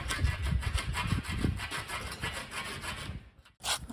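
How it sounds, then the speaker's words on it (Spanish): A small hand saw rasping back and forth in quick, regular strokes, close up, during gas and water installation in a motorhome, pausing briefly before one more stroke at the end. "con mucha paciencia, una sierrita, a darle ahí paciencia"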